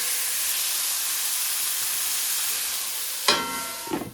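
Curry ingredients cook in a pan with a continuous soft sizzling hiss, then a sharper burst of spitting and a clatter as they are stirred near the end.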